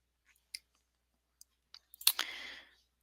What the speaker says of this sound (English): So I can click undo.